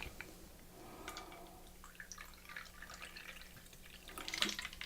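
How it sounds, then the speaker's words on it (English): Club soda pours quietly into a spritz cocktail, a faint close trickle and fizz with small bubbly pops. "So I'm going to do about 2 ounces of club soda here."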